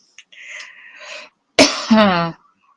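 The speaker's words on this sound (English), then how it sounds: "Cough, cough." A breathy hiss is followed by a single sharp, harsh cough with a short rasping voiced tail, close and loud.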